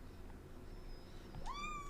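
A single short cat meow near the end, rising then falling, after a quiet stretch of low background hum.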